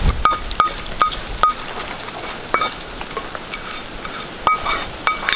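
Hot tempering with curry leaves is poured into a Kerala-style roasted-coconut fish curry, giving a brief sizzle followed by scattered sharp clinks and light stirring noises.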